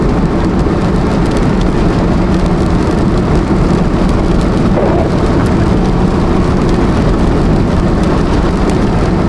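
Rain falls steadily during a drive toward the Yukon, a broad constant hiss and patter mixed with low road and engine rumble, loud and even, with no voices.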